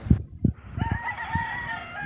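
Poisoned, sick chicken making a few short low clucks followed by a thin drawn-out crowing call, heard close and alone.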